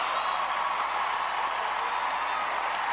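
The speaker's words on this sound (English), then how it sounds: "Thunderous applause from the Hollywood crowd." Thunderous applause from a Hollywood crowd at a standing ovation: dense, steady clapping that fills the whole moment at an even level, with no pauses.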